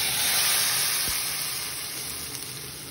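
Tomato puree hits hot oil with cumin seeds and cardamom, producing a loud, continuous hissing sizzle that fades slightly over a few seconds, with no talking.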